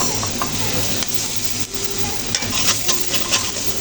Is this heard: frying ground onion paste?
yes